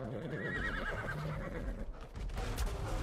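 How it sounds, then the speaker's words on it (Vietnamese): A baby horse in the ARK video game with the Hybrids mod lets out a loud, wavering whinny, with scuffling hoof-like clatter and game noise around it. "Bây giờ mình sẽ lấy con ngựa ha. Ngựa baby của mình đây."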